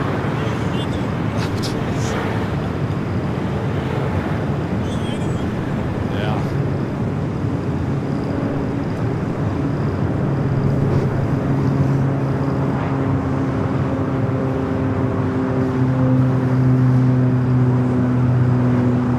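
An EVA Air Boeing 777 arrives at LAX, a steady jet roar with rising engine tones building over the stretch, heard at a distance while someone talks over it.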